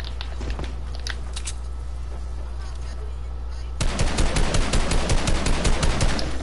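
Assault rifle fire in an online shooter game comes in as rapid automatic bursts that grow denser and louder partway through, over a steady background hum, with no talking.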